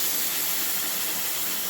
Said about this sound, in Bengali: এবার তরকারির মধ্যে আমি গরম জল দিয়ে দেবো।